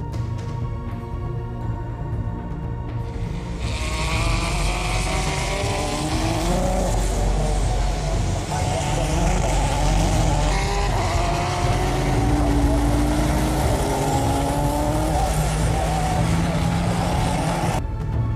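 A Nissan DeltaWing race car drives past with a loud engine roar that climbs and shifts in pitch, joined by a tire squeal and a sustained whooshing rush.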